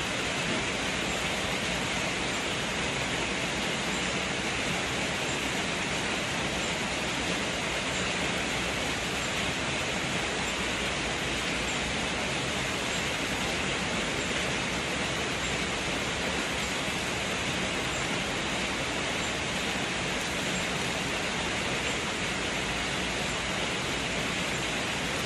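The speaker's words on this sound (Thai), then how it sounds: "บรรยากาศฝนตกครับ" Steady rain falls continuously with a dense, even hiss throughout, loud and close, with no clear talk over it, in an outdoor setting during a rainy spell while som tam with pickled crab is being made and eaten.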